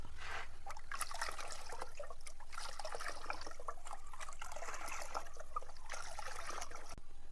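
Pesticide mixed into ten litres of water is stirred, making a soft, continuous watery swishing and trickling close by.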